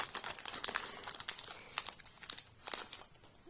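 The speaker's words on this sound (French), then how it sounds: "Ça fait plaisir d'ouvrir des boosters." Yu-Gi-Oh booster packs being opened, their foil wrappers crinkling and tearing in a busy run of close, bright rustles and rips with small pauses, no talking.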